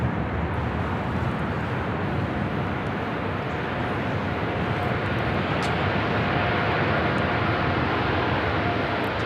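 A heavy Boeing 777 airliner rolls out at LAX, its jet engines producing a loud, steady broadband roar that holds without letup throughout.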